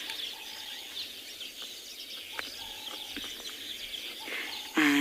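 Weaver birds calling at dawn on a safari drive, short repeated chirps and whistles over a low steady hum, fairly distant, ending in a louder burst.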